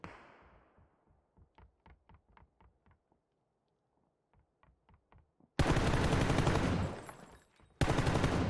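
AKM rifle fire in PUBG, first as quick bursts of separate shots, then loud sustained automatic fire that breaks off briefly and resumes.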